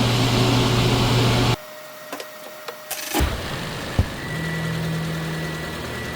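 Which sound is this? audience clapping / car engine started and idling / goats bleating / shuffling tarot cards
car engine started and idling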